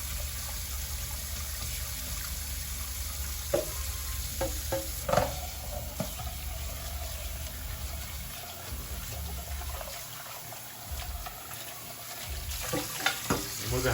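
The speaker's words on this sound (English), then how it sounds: "I'm going to have my sponge and I'm just going in a circle." Sponge scrubbing dishes in circles at a kitchen sink, a steady watery swishing with faint clinks and scrapes over a continuous low background, moderately close and unbroken by talk.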